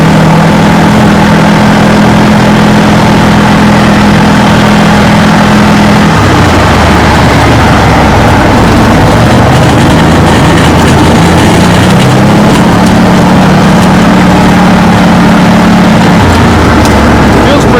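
A Massimo Militia 1000 UTV engine runs smoothly, a loud, close, steady drone with low rumbling tones that shift slightly as it idles and moves, with no stumbling.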